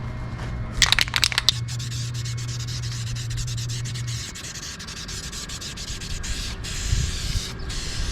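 Sandable Duplicolor primer hisses from a spray can onto wheel rims outdoors, with rough, rubbing bursts near the start and a steady steady spray noise mixed with wind and background rumble throughout.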